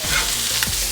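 Crumbled sausage sizzles in a hot pan while being stirred, a dense bright crackle with scraping strokes of the utensil, close and loud for a brief moment.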